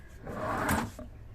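A single wooden drawer in a camper van slides open with a short rubbing scrape, close and fairly quiet, followed by a faint knock as it stops.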